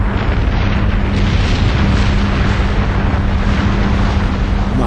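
A hydrogen bomb detonation roars as a loud, continuous, broadband rumble that stays dense and unbroken throughout, with no voices heard.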